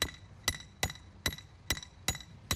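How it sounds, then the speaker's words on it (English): A steady run of seven hammer strikes knocks circus tent pegs into the ground, evenly paced around every 0.4 seconds, each a bright, close, metallic-edged thud with no voices over it. "The first job is to get the tent pegs into position."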